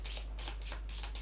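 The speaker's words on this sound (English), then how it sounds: "Draw 3, shuffle and draw." Playing cards in a Keyforge card game are shuffled in several quick riffling bursts, close and crisp, with no talking.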